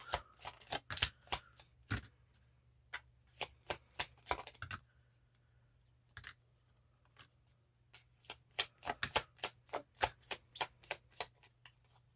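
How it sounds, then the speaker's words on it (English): Tarot cards are shuffled in crisp, rapid riffles and taps, two bursts separated by a quiet pause with a few isolated snaps, close and clear. "I always do 2 shuffles."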